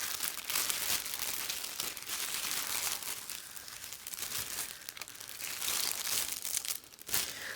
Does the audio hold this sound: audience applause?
no